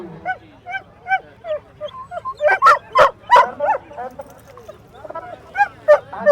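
Dogs bark repeatedly in quick irregular bursts, loud and close, with some higher yips and whimpers mixed between the barks.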